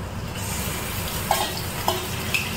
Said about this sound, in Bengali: এখন মাংসটা দিয়ে দেবো, তাও তো প্রায় 5-7 মিনিট মাখাবো মাংসটা